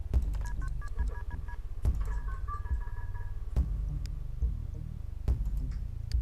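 Telephone dialing in The Sims 2: a rapid sequence of beeping keypad tones, with a few louder clicks in between, sounds clearly and alone against a low steady game hum.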